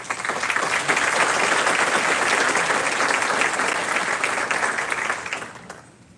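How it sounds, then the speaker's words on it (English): Sustained applause from an audience at a high school class day ceremony honoring graduating seniors, dense steady clapping that holds loud for several seconds, then fades out toward the end. "Please give a round of applause for all who participated."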